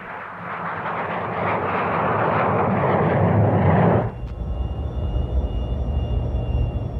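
A fixed-wing aircraft's engines roar up to a loud, broad takeoff rush for about four seconds, then drop abruptly to a lower, steadier drone.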